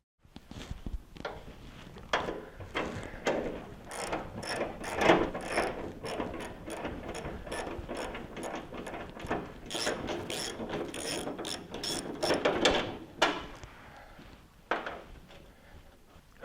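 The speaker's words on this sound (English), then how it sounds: "so I'm going to have to use a socket wrench for that." A socket wrench ratchets steadily on a fender bolt of a 1946 Willys Jeep CJ2A during restoration, with close, loud bursts of rapid clicking in repeated strokes, pausing briefly, and no speech.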